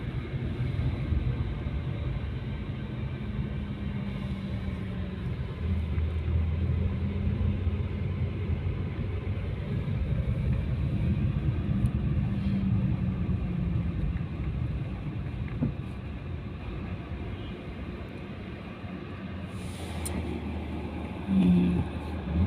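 Heavy road traffic heard from inside a vehicle, a continuous low rumble of engines and tyres with faint passing sounds, steady and close throughout.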